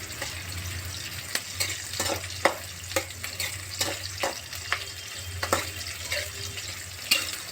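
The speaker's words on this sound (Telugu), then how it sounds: "ఇది కూడా బాగా వేగాలండి." Chicken for gongura chicken fries in a pan with a steady sizzle, broken by repeated scraping clicks of a spatula stirring at an uneven pace, close and fairly quiet.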